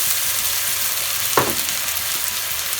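Spice paste of garlic and ginger frying in a pan for khichuri, a constant close sizzle with one brief scrape of stirring midway.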